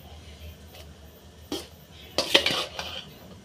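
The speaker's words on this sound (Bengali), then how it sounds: "আবার এবার রাইস দিয়ে দেবো।" A metal spoon spreads rice over meat in a pot for Gobindobhog rice biryani, giving faint scrapes and then a cluster of clinks against the pot near the end.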